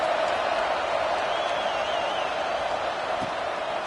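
Steady stadium crowd roar from a Madden football video game, a continuous dense wash of cheering with no clear breaks, heard during a kickoff in a college game involving Florida.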